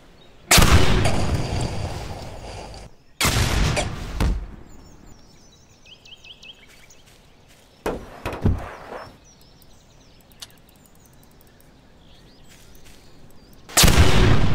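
Grenades explode in the game Garry's Mod: four loud, booming blasts, each trailing a rumbling tail, with quieter bangs and clatter between them.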